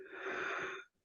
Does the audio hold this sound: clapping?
no